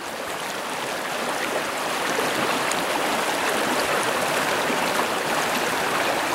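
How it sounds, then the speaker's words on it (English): Creek water rushes and burbles steadily over rocks in a California creek, a continuous, fairly close broadband flow with no talk. "I found it to the creek here. It's the source of water."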